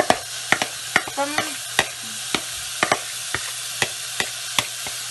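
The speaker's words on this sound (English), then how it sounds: "Now we're going to just add in the tomatoes" Diced tomatoes stirred into softened onions in a pan while making pasta sauce, giving a steady sizzle under repeated sharp scrapes and clacks of the spoon, roughly every half second, close and clear with no talking.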